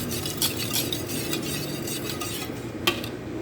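Granulated and brown sugar get stirred into a French toast bake mixture with a utensil in a bowl. It makes a steady close scraping swish, with a brief clink of metal near the end and no talking.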